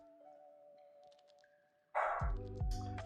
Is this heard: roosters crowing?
no